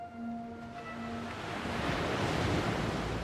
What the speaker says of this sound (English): Waves just washed away their footprints.